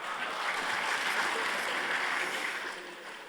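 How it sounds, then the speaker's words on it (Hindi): An audience applauds steadily to welcome Governor Satyapal Malik at a Jat Sansad gathering: a dense, sustained wash of clapping that stays loud throughout and eases slightly at the end. "जोरदार तालियों के साथ आदरणीय महामहिम राज्यपाल श्री सत्यपाल मलिक साहब।"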